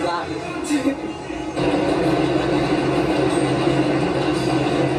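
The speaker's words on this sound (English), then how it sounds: "That's the 4 train." A New York subway 4 train rolling past in the Bronx, a steady loud rumbling roar that swells partway through and continues to the end.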